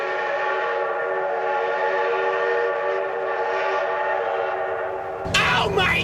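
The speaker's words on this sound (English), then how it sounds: "Oh my god, train!" A loud, steady train horn blares from a train passing in the BeamNG.drive driving game, sustained for several seconds before cutting into a brief rising whine and rumble at the end.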